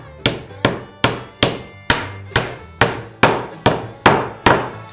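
Staples pulled from reclaimed lumber are hammered into a wooden target board, eleven sharp, evenly spaced hammer blows ringing out one after another, close and loud, with no voices.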